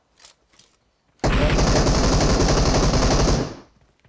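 An M249 machine gun in PUBG Mobile lets out one loud, continuous burst of rapid fire lasting a little over two seconds. A couple of faint distant shots come just before it.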